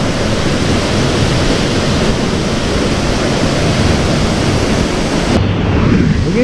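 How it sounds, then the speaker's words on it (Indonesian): Yeh Hoo Waterfall in Bali pours with a loud, constant rushing roar that fills the whole stretch without letup, heard close and alone. "Beginilah suasana di Yeho Waterfall"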